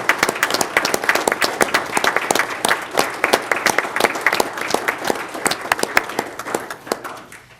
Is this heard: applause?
yes